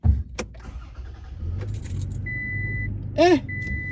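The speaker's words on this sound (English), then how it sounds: "Cold start." A Toyota Tacoma pickup's engine cranks and catches, settling into a low idle after keys jangle and a door-open chime beeps twice nearby.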